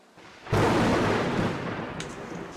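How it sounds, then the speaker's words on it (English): Thunderstorm in an indie horror video game, with a sudden loud crack and rolling rumble of thunder that sustains and slowly fades, no talking over it. "We got a thunderstorm."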